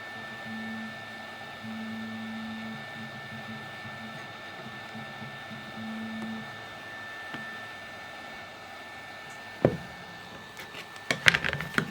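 Heat gun blowing on a plastic playfield piece from a 1980 Williams Scorpion pinball machine, a soft steady airy hum for most of the clip, followed by a few sharp knocks and handling clatter near the end.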